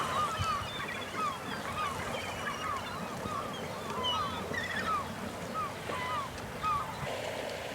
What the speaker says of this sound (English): with the gulls following them around